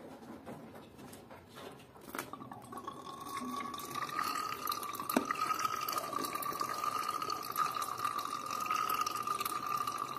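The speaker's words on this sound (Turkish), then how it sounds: "suyumuz akmaya başladı. Akmaya başladı." Water runs steadily out of a home heating radiator being flushed during boiler maintenance, a continuous splashing trickle that grows slightly louder after a brief clunk, with no talking.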